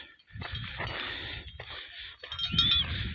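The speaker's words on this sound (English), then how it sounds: "Yeah, so we have a lot of goats, cows, and sheep." Goats and sheep bleat faintly on a village hillside among grazing cows, with a few short cries over quiet, rustling open-air background and no speech.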